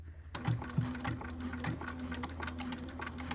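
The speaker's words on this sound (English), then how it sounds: "take this on over to the sewing machine" A sewing machine runs in a steady mechanical hum with rapid stitching clatter, close up, after a brief quiet start.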